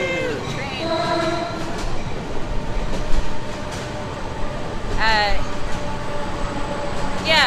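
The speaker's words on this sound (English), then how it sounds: "Cheer for the train." A train passes nearby with rumbling wheels and clattering cars, sharp squeals of wheels or horn-like tones rising above, loud and continuous, while people talk outdoors.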